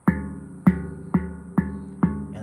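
A handpan struck too hard, five loud, evenly spaced hits that each ring briefly with a harsh, clanky attack, heard close and alone.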